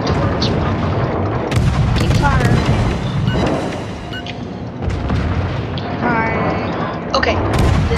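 Naval ship guns firing in a warship battle game, repeated heavy booms and rumbling blasts over dense battle noise, with a voice talking over parts of it.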